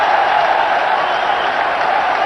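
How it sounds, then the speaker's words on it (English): A cricket crowd at a 1996 World Cup match applauds Sachin Tendulkar's half-century, dense sustained clapping and roar from a large stadium, steady and loud throughout. "Rapturous applause,"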